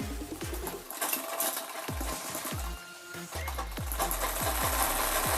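A sewing machine stitches a blouse in short rhythmic bursts of rapid needle thumps, pausing briefly between runs, close and fairly loud with no talk.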